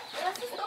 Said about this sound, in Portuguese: A galinha saiu de lá voada.